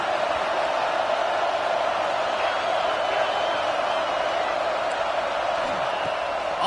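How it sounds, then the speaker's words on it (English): A stadium crowd at an Aggies football game roars steadily to help their defense, a dense, unbroken wall of cheering that holds at the same loud level throughout. "Listen to this crowd just shaking the girders of this place"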